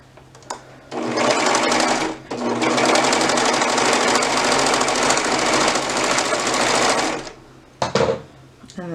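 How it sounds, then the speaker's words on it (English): A sewing machine stitches a fabric gusset along a front crotch seam in one long steady run of about six seconds, with a brief stop partway and a short burst near the end. "And then stitch that down."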